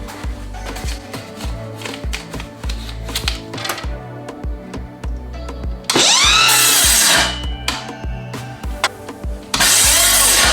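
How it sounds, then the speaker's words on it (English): A battery-powered saw bevel-cutting picture frame molding, with rhythmic knocks and handling clatter, then two loud bursts of the motor whining through the cut, the second one shorter. "Okay, this is my first beveled cut. This is what I need for the picture frame molding."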